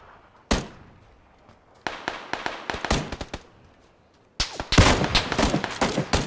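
Video game gunshots crack out loud and close: a single shot, then a rapid cluster of several shots, a pause, and a final dense burst of fire, with no talking.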